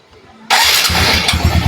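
Honda XRM 125 motorcycle engine cranking and catching after a quiet moment, then running loudly up close with a rough, pulsing idle.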